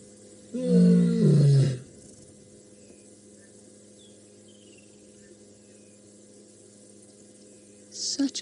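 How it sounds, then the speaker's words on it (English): A lioness of the Nkuhuma pride roars on a safari drive, one deep, powerful, drawn-out call of about a second, fairly close, followed by a quiet stretch of insect hum and a faint rustle at the end. "Now we're almost into roaring."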